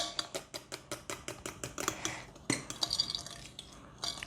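Vanilla being stirred into a butter mixture for cookies, a fast run of sharp clinking scrapes of utensil against bowl, then looser scraping and knocks, close and alone.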